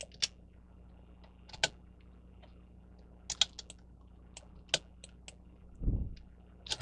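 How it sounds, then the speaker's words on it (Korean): Computer keyboard keys pressed one at a time for SketchUp shortcuts, sparse sharp clicks spread across a quiet room, with a soft thud near the end and no one talking. "M 버튼 눌러서 컨트롤 누르고 C 컨트롤"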